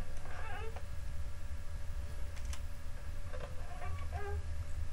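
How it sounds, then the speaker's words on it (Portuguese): Spooky's House of Jumpscares plays a cat sound effect: soft, brief meow-like calls rise twice over a constant low rumbling drone, with a faint tick between them. "E o ronronado dos infernos voltou"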